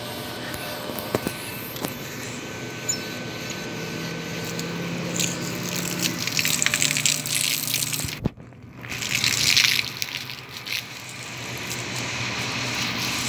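Water rushes and gushes from a sink or drain after a valve is opened in a tourist-facility toilet area, a steady splashing flow with a louder surge near the end, with no talk.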